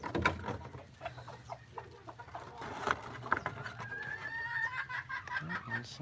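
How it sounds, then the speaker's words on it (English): Chickens cluck in a backyard flock with a picnic table, the calls rising and falling across the stretch amid outdoor background noise. "And some chickens."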